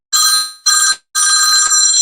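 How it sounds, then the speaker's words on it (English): A telephone rings close and loud with a spam call, three bright electronic bursts in quick succession, the last one longest, with no talking. "should I answer the spam call?"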